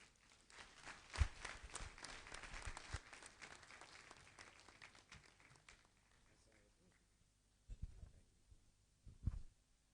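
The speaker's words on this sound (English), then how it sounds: "please can we give the Honorable Commissioner another beautiful round of applause?" Audience applause for a state finance commissioner at a 2020 budget presentation, a brief burst of clapping that fades, followed by scattered later claps, faint and distant in the hall.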